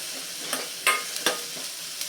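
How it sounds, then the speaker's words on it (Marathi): Spices fry with potatoes in a pan for a curry made without onion or garlic, a dense steady sizzle with a few sharp scraping stirs, close and alone. "आता हे पण मसाले छान ह्याच्यासोबत परतून घेऊयात"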